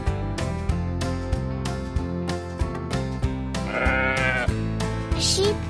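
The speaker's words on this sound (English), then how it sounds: "A sheep is a fluffy animal with woolly fur and 4 legs." Sheep bleats ring out over steady background music, a couple of bleating calls standing out near the end at moderate loudness.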